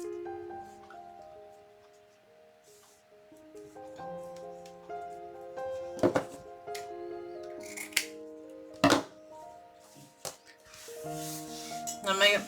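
Scissors snipping deco mesh ribbon ends up to the wire edge for an Easter wreath, with a few sharp distinct cuts spaced apart, close and quiet, under soft talking.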